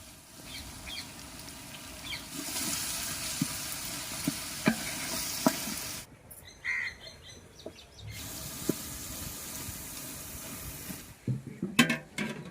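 Ginger garlic paste frying in a pan with a steady sizzle, broken by clinks and scraping stirs and a short pause around the middle, no voices present.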